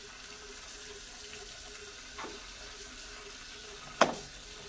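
A kitchen tap runs steadily while spinach is washed, giving a soft, even hiss of water with a faint splash partway through and a sharper clink near the end.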